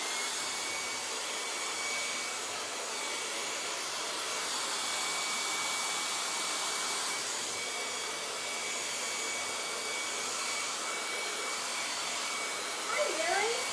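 A hair dryer blows steadily for several seconds to quickly dry a decoupage vintage Santa craft piece, a continuous broadband whoosh that holds nearly even throughout and cuts off abruptly at the end.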